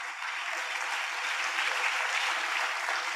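Congregation at a gospel church service applauding, a dense, steady wash of many hands clapping at once, loud and continuous throughout with no voices rising above it.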